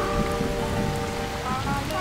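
A film thunderstorm with rain hammering down steadily and a low rumble of thunder underneath, dense and continuous, with no voices.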